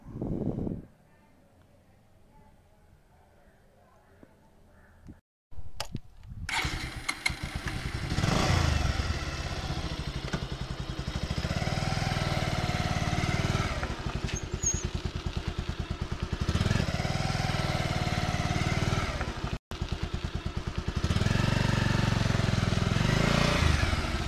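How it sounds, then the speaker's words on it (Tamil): A motor vehicle engine starts up after a quiet stretch and keeps running loudly and steadily, with a rough, clattering idle and occasional revving, close by. "ராஜேஷ் வண்டி எடுறா போலாம்."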